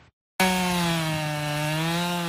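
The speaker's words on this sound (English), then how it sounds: "Another year, another roar of the chainsaw, and another message of thanks headed south." A chainsaw cuts into the white spruce chosen as the 2025 Tree for Boston in Martins Brook, Nova Scotia, starting abruptly after a short silence and holding a loud, steady roar with a strong engine hum until the clip ends.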